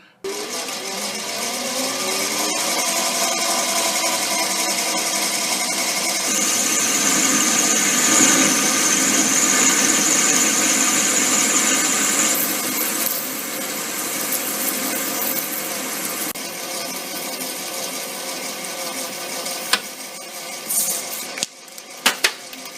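Metal lathe turning and cutting a Ford Model R axle workpiece, a steady loud machine whine with a high thin squeal of the cut through the middle, continuous for about twenty seconds with a few sharp clicks near the end.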